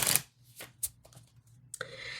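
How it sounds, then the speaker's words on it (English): A deck of tarot cards is shuffled by hand in a run of crisp riffles and slaps, loudest at the start, then scattered softer flicks, ending with a sustained riffle, close and without talk. "So let's give a couple of shuffles."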